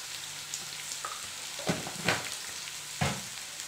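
Sliced onions frying with salt in a pan, a soft steady sizzle close by with a few scraping stirs of a spatula against the pan, fairly quiet, no voices.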